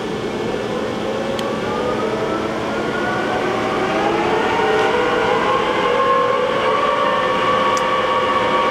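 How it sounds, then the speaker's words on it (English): A new 2007 Johnford ST-40G+CF CNC lathe spindle winds up into its fourth gear range near 280 RPM, a loud steady mechanical drone with whining tones rising in pitch, a few faint clicks, no voices. "The max RPM on this machine is 500. Going to the fourth gear range."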